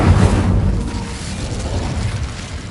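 Incendio fire spell cast in the Hogwarts Legacy video game, a loud whooshing burst of flame with a low rumbling roar that stays steady for a few seconds.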